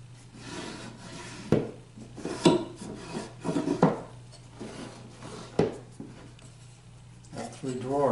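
Rough scraping strokes of hand sanding on wooden jewelry case drawers, irregular rasps and a few knocks close by, with a person talking in between.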